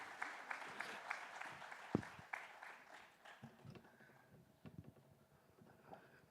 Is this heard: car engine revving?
no